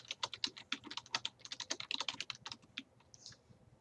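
Rapid keyboard typing on a computer, a steady run of close, crisp key clicks that loosens into a few sparse taps near the end.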